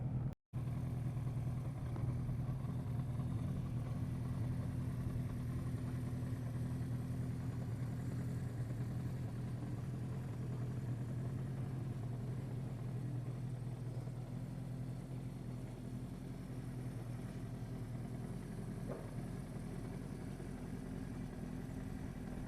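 A 1976 Honda 400-4 motorcycle engine runs steadily at close range, a continuous low idle-like drone with occasional revs rising briefly, after a short dropout at the start, no talk.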